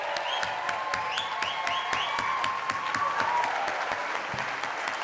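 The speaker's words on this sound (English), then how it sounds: "How about one last round of applause and cheer for our students who did a great job tonight." Sustained applause with cheering from an audience at a school arts pageant celebrating students, steady dense clapping with a few raised voices and whistles running throughout.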